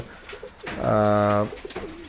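Pigeon cooing close by, one clear sustained coo that swells and fades, set against quiet background noise and soft indistinct sounds.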